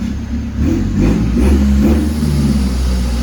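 A remapped Mitsubishi Triton pickup with a stock 2.4 MIVEC engine is revved hard, a loud, close, droning engine note that swells and holds high with some rough pulsing.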